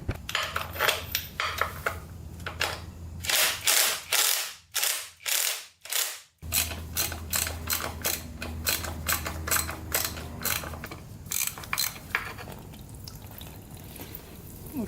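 A ratchet cranks on the drain plug of a vintage racing dirt bike, rapid repeated clicking bursts in several runs, close and loud, with a brief pause mid-way and a low hum underneath.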